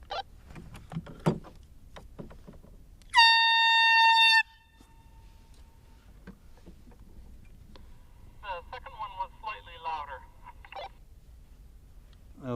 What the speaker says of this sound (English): now I'll try the real air horn.